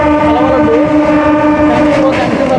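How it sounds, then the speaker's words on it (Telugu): Train departing Vetapalem railway station, a loud sustained horn-like tonal drone with rumbling undertone and some background noise throughout. "మన ట్రైన్ అయితేనండి వేటపాలెం రైల్వే స్టేషన్ నుండి అయితే డిపార్ట్ అయిపోతుందండి"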